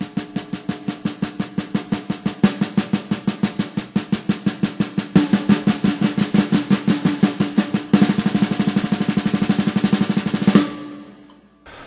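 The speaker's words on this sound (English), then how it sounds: "16 notes on my right hand, 16 notes on my left hand, 16 notes together, and then the same notes as a single stroke roll." Drum strokes played as 16 notes on the right hand, 16 on the left, 16 together, then the same as a single stroke roll: crisp, evenly spaced hits that speed into a dense roll before stopping.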